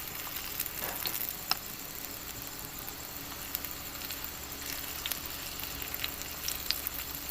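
Batter sizzling in hot oil on a tawa griddle for an egg and potato paratha, a steady close crackle and hiss with small sharp pops scattered throughout, no voices.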